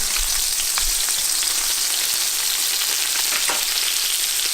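Butter sizzles hard in a hot pan with seared fish fillets, a steady loud crackling hiss running throughout with scattered sharper pops, no voices.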